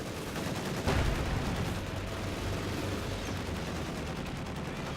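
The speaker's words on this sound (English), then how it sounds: "We now see a strafing run falling down right on top of Vilisskuja's base." Strafing run in Company of Heroes 2: a continuous roar of rapid gunfire raking the ground, with a sharp heavier impact near the start and a steady dense rattle that persists throughout.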